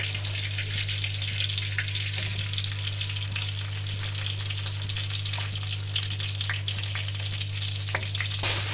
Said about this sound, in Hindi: ये हमने जी गुड़ जो है वो ऐड कर लिया, और अब हमने इस गुड़ को इसके अंदर पकाना है।